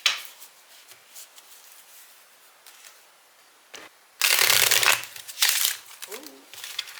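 Tarot cards are shuffled in two sharp, crisp bursts of riffling, the first sustained and loud, the second shorter, between quiet pauses.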